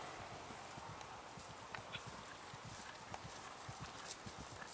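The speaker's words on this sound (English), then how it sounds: "It's a gray horse." Gray horse walking on a show jumping course, with soft rhythmic hoof clip-clops over steady outdoor background noise, moderately distant and faint.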